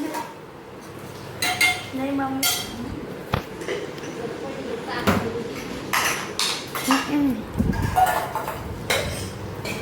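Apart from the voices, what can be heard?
washing dishes, pots clinking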